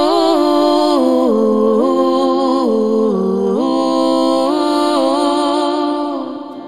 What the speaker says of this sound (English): you can use Flex Pitch to create artificial harmonies with a duplicate of your lead vocal